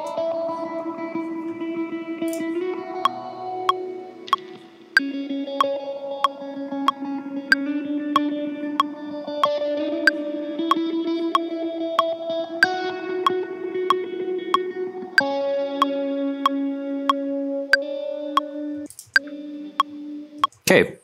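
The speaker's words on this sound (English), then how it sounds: "There's some flange." Electric guitar playing a rhythm part through a flanger effect, moderate and steady, regular picked chords with a sweeping, swirling tone and sharp clicks on a repeating beat.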